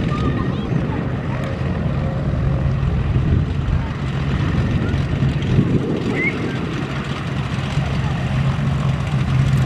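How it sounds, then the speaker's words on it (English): A propeller airplane that has just landed at the Wings N Wheels event in Minford, Ohio, gives off a steady, fairly close engine drone that continues unbroken throughout. "And this plane here just landed and landed safely."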